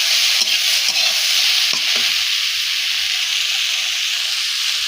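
Leafy vegetables being stirred as they fry in oil in a pan: a loud, continuous bright sizzle with a few soft scraping stirs near the start, close and steady throughout.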